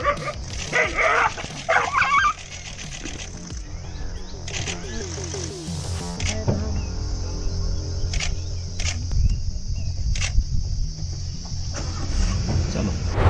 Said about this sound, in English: This dog is in a bad way.